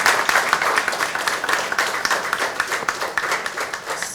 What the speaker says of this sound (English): Please give big round of applause for our topper.